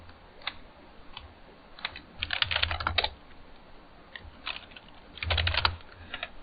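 Typing on a computer keyboard during a Kali Linux terminal session, bursts of quick clicky keystrokes alternating with short pauses, close and clear over a quiet background.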